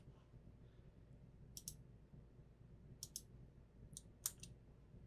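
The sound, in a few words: mouse clicking in LightBurn software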